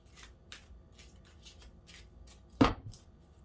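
Tarot cards being shuffled by hand: a soft, faint run of rhythmic riffling flutters, then one sharper, louder snap of the deck near the end, with no talking.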